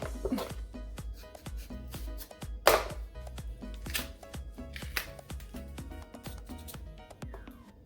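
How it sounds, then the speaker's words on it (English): Repeated sharp knife chops through plantains on a cutting board, a steady rhythm of close, crisp cuts with a few louder strikes. "cutting up these plantains."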